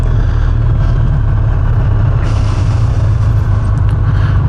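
Steady road traffic rumble heard from a motorcycle, with cars passing close by and a brief rise in hiss as one vehicle goes past; continuous engine and tyre noise throughout, no talk.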